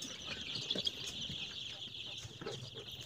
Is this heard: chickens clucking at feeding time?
yes